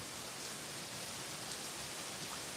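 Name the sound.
rain falling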